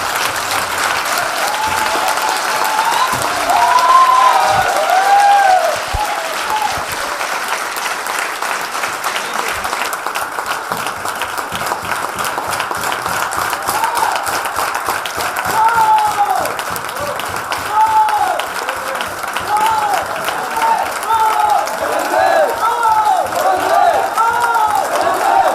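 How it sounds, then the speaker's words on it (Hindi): Loud, sustained audience applause fills the room for the whole stretch, a thick roar of clapping with scattered cheers and whoops rising above it. "जोरदार तालियां सर के लिए।"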